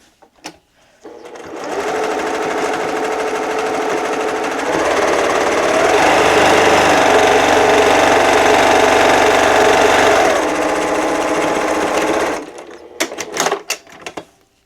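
A sewing machine stitches diagonal lines across a reusable kitchen cloth in a long, steady, loud run of rapid mechanical whirring, with short clicks and handling sounds before and after.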